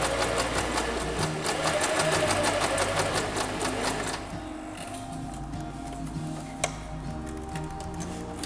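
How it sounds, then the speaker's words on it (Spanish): A Venecia sewing machine runs steadily, gathering and stitching fabric with a dense, even mechanical buzz and ticking needle rhythm that drops to a lighter, quieter whir halfway through, with a single small click near the end. "va haciendo un pequeño frunce y va cosiendo la tela superior"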